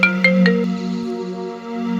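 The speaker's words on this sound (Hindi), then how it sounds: "सेठ जी, भाभी जी के नंबर से फोन आ रहा है।" Incoming call on a phone, an electronic ringtone of a few quick bright chiming notes that settle into a sustained tone, loud and close with no talk over it.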